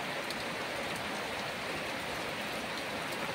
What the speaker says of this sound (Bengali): কোনো ঝোড়ো বাতাস নেই, কোনো বজ্রপাতের শব্দ নেই, শুধুই বৃষ্টি, শুধুই বৃষ্টি, ঝমঝম বৃষ্টি।